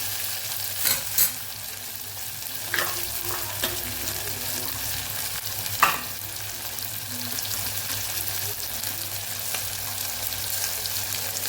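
Spices fry in hot oil with a steady sizzle while a spoon scrapes and stirs, giving a few sharp clinks near the start, while cooking a pea and potato dish.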